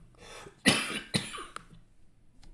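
Two sharp, dry coughs sound close to the microphone, followed by a fainter third, with quiet room noise between them.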